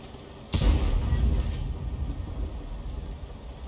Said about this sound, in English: Elirox is actually firing the 105mm gun here, and he's firing at the bush where the enemy tank destroyer would normally be